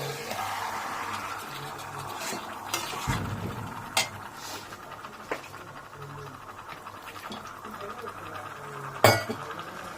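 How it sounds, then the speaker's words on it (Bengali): Chicken curry being sautéed and stirred in a pan, with a spoon clinking and scraping against the metal in irregular taps over a steady sizzle, close by, under a low hum. "এবার দেখো, এটা ভালো মতন কষা হবে।"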